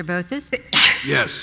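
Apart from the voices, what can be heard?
sneeze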